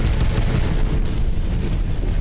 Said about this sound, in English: I think that's called a thud gun.